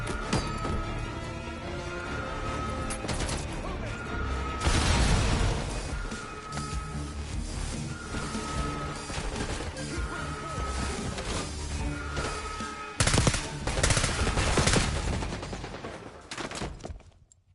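Gunfire and a grenade blast in a first-person shooter campaign battle: a booming explosion early, then repeated bursts of automatic fire and crashing impacts, loud and close throughout.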